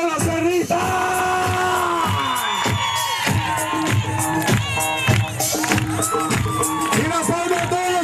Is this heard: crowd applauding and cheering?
yes